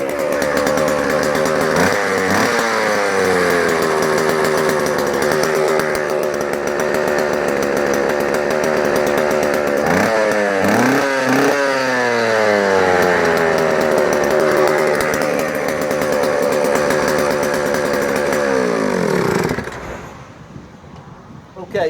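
A vintage JoBu L6 chainsaw runs loud and close, its engine note rising and falling through several throttle blips before cutting out abruptly near the end.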